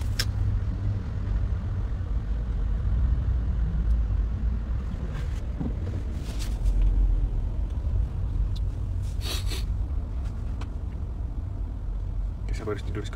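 A car sits stuck in a heavy traffic jam, a steady low road rumble and engine drone running under the whole stretch, with a few brief sharper noises and some speech over it.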